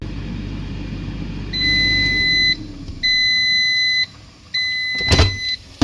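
Air fryer control panel sounding three long electronic beep tones, evenly spaced as the temperature is set to 400 and the timer to 20 minutes, loud and close, followed by a short tap at the end.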